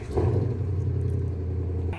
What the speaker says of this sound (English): my loser neighbor was revving his engine